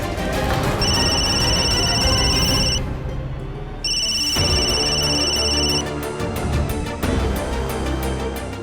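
A telephone ringing as a call goes through, with two long electronic ring bursts separated by a short pause, clear and steady over faint background noise.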